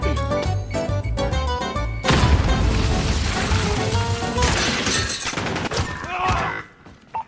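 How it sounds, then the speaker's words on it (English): Cruise missile strike in Call of Duty Modern Warfare: a loud, dense barrage of booming explosions and crashing impacts rolls on for several seconds before cutting off. "Allied cruise missile launched."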